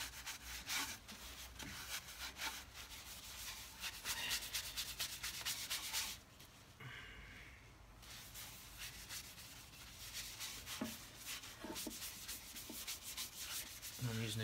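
Sanding sealer is rubbed by hand into a chestnut log bowl on a stopped lathe, producing continuous close scratchy rubbing strokes in a steady rhythm, briefly pausing midway, with no talk.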